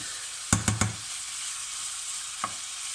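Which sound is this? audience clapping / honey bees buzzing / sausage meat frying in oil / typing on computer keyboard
sausage meat frying in oil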